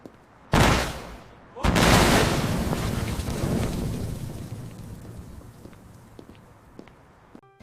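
A synthetic explosion in an AI-generated short comedy film starts with two loud booming blasts. A long rumbling roar follows and fades slowly, with scattered crackles as debris settles.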